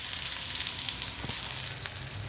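Chopped onion frying in a pan for a bitter gourd vegetable dish, giving a steady close hiss and sizzle with faint crackles throughout.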